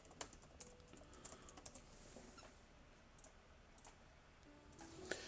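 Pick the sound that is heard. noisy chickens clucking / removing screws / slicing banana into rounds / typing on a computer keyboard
typing on a computer keyboard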